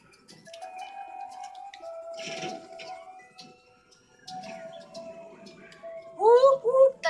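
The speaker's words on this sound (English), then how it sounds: "Whoop, whoop. That's the sound of the police." A police siren from the video game GTA V gives a couple of loud rising and falling whoops near the end, following quieter tonal game sounds and background noise.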